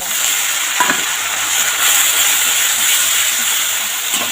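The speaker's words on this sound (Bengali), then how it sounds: "এবারে বেটে রাখা মশলাটা দিয়ে দিলাম একটুখানি বাটিটা দিয়ে দিলাম" Ground spice paste frying in hot oil in a pan as part of a hilsa fish dish, giving a steady loud sizzle and hiss with a brief stir clatter near the start.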